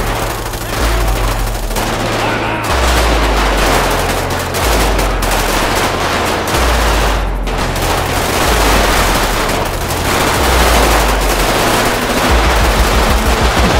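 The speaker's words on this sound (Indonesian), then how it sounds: "oh ini banyak tembak pak" Loud, sustained bursts of automatic gunfire in GTA 5 zombie survival crackle almost without pause, with a low droning hum underneath and occasional heavier rattles.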